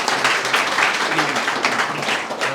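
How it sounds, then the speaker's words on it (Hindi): A short burst of audience clapping during an interview-preparation session at NUSI Goa, dense and continuous for a couple of seconds, with faint voices underneath. "एक बार इसके लिए तालियां हो जाए"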